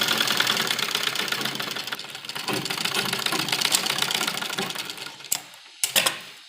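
A sewing machine stitching old dupatta fabric into a kurti runs in a fast, steady whir for several seconds, then stops, followed by a few short clicks and brief bursts.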